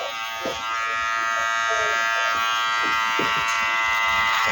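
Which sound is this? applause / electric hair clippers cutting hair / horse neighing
electric hair clippers cutting hair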